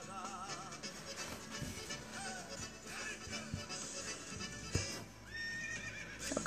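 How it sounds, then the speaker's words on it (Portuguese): A horse neighs and whinnies in several wavering calls over a faint, busy background, with a louder, higher whinny near the end. "Cavalo tá aqui."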